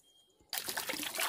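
Water running and splashing into a chicks' water dish as it is washed and refilled, a dense rushing stream that starts abruptly after a quiet moment and carries on loud and close.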